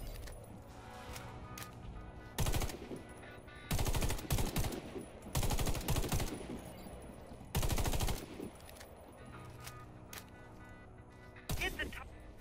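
Gunfire in the Warface shooter as a player hits targets through a weapon scope: several sharp bursts of shots, some single and some in quick clusters, cracking loudly over a quieter steady background.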